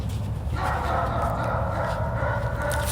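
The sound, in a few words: dogs barking in the woods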